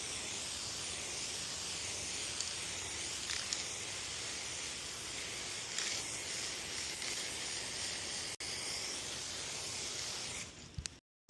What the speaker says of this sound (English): Gonna hit it with the 2K epoxy primer now.